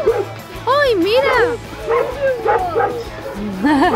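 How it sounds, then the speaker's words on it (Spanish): Several dogs at an animal shelter in Marbella bark, yip and whimper in quick overlapping bursts, fairly close, while excited voices talk over them. "ya se oyen aquí los ladridos"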